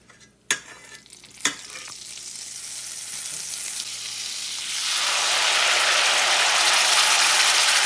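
Butter, buffalo sauce and honey go into a pan. A couple of clanks come first, then a steady sizzle that rises and settles into a loud, continuous frying hiss. The sound is close, with no talking.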